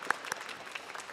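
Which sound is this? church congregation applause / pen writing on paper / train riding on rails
church congregation applause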